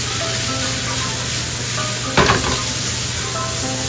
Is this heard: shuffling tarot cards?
no